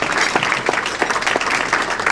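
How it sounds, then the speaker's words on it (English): An audience at a judicial campaign fundraiser gives a sustained round of applause, a dense, even wash of clapping with a few sharper claps standing out throughout. "Everybody, can you please give him a round of applause for his extraordinary work."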